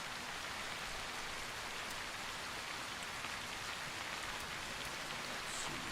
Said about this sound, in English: It is currently raining in the server.